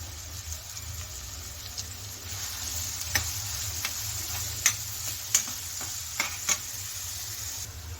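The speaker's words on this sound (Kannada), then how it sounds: "ಈರುಳ್ಳಿ ಚೆನ್ನಾಗಿ ಗೋಲ್ಡನ್ ಬ್ರೌನ್ ಬರೋವರೆಗೂ ನಾವು ಫ್ರೈ ಮಾಡ್ಕೋಬೇಕಾಗುತ್ತೆ" Chopped onions frying in hot oil for an egg dish, with a steady low sizzle and a few sharp ticks and scrapes from stirring in the pan, heard alone without talk.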